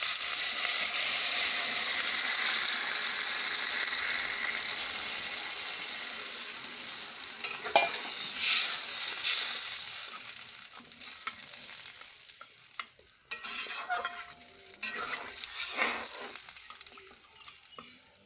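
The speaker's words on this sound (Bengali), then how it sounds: "এখন একটু জল দিয়ে দিব।" Water is poured into a pan of frying katla fish head, potato and atap rice for murighanta; loud, steady sizzling fades into a softer simmer with occasional stirring clinks.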